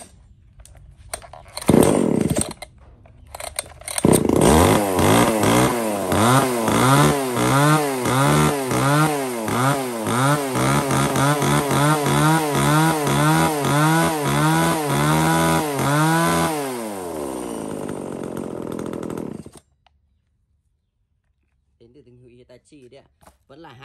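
Close, loud chainsaw bucking a log about 20 cm across: the engine revs up and holds a rising-and-falling snarl through a long cut of roughly fifteen seconds, then winds down and stops, with brief idling before and after.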